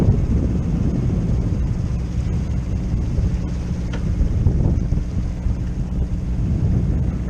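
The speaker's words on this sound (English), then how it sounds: "We've got a nice breeze just built up" Wind buffets a microphone aboard a Nova 28 sailboat underway, a steady loud rumbling roar with gusty low-end pressure and no voices.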